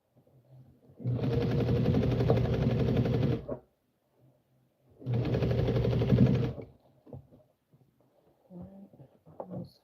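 Sewing machine stitching a garment alteration in two steady bursts of rapid mechanical needle clatter, each about two and a half seconds, close and loud, separated by quiet pauses with light handling noises.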